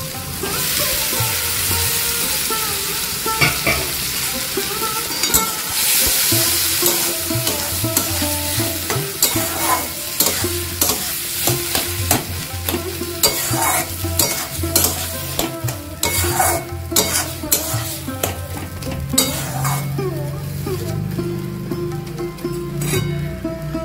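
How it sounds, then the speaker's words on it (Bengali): Boiled lentils for dal chorchori sizzle and fry in a hot pan while being stirred, with continuous crackling and frequent scraping and clinking of a utensil against the pan, up close and without talk. "যে ডালটা সিদ্ধ করে রেখেছি, ডালটা দিয়ে দিই।"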